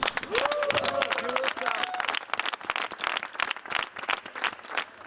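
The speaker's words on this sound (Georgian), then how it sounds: "ყველას დიდი ტაში." Dense applause and clapping from the crowd at the final concert of the Sukhishvili dance company's 40-day Minsk tour, mixed with voices and cheering over a sustained burst.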